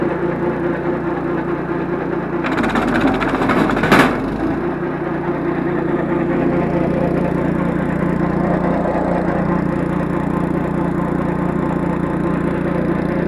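A motor-driven grain crusher hums and rattles steadily nearby, with a brief burst of harsh crunching grinding early on, then continuous droning vibration.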